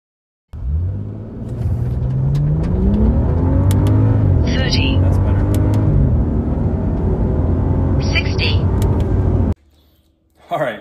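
A BMW 535 with the N55 engine accelerating hard from 0 to 60 mph, heard from inside as a loud, steady engine drone rising in pitch through the gears for about nine seconds before cutting off.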